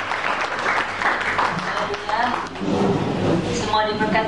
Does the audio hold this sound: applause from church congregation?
yes